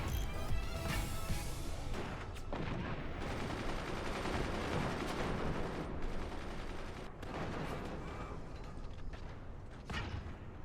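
Machine-gun fire in a video game battle keeps up as a dense, continuous clatter of rapid shots mixed with crashes and mechanical noise, loud and sustained the whole time.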